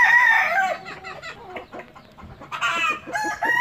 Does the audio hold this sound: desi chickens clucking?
yes